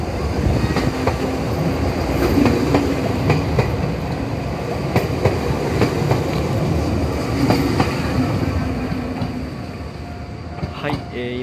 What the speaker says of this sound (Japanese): 今ウッディタウン行き電車出ていきましたけれども